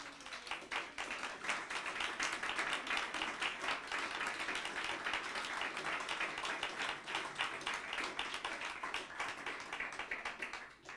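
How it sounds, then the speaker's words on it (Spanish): A church congregation at an evangelical Spanish-language sermon service claps steadily and densely for about ten seconds. The applause is faint and distant, with no speech over it. "Dale un aplauso al Señor."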